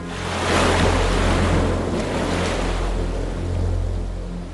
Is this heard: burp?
no